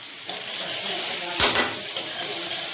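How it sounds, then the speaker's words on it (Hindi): Onions frying in hot oil in a pan give a steady, close sizzle, with a brief clatter of stirring partway through and no talking. "प्याज प्याज प्याज डाला संगवारी हो प्याज ऑनियन"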